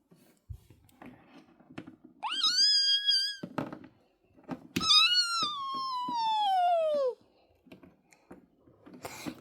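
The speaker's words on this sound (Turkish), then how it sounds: "İşte benim pisim." Two long, drawn-out cat meows, the second longer and falling in pitch, with light tapping and clicking noises between them.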